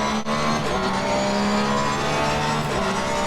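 Race car engine in an Xbox racing game, held back by engine management while downshifting through the gears; a loud, steady motor drone with sustained tonal whine and slight pitch shifts, no talk.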